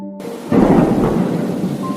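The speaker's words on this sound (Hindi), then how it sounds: "एक जंगल में बहुत तेज बारिश हो रही थी।" Heavy rain pours down with rolling thunder in a cartoon jungle, a steady loud downpour that swells into a deep rumble after a brief quiet start.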